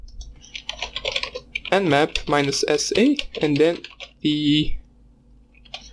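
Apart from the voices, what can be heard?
typing an nmap command on a computer keyboard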